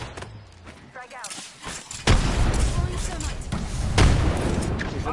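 Frag grenade exploding in a multiplayer shooter video game, a sudden heavy boom that hits hard midway and rumbles on, followed by another blast, with gunfire and players talking over the noise.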